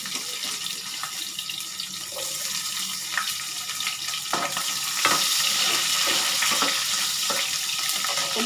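Thinly sliced onion frying in oil in a pan for a stuffed brinjal curry, giving a steady broad hiss that swells slightly midway, with occasional soft stirring clicks and taps.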